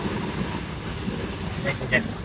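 A freight train rumbles past a nearby railway crossing near Chiplun in Konkan with a low, steady roar, and a couple of faint high squeals rise near the end.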